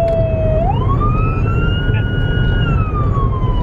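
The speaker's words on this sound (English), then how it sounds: "You may find me out on the streets running lights and sirens." Police car siren on the streets, a loud, close wail rising sharply then holding a high sweeping tone before easing down, with no talk over it.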